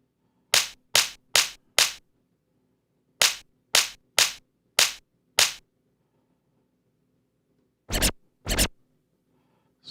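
A clap-like percussive sample repeats in sharp, bright bursts: a group of four, then five, then two close together after a pause, each crisp and near against near silence.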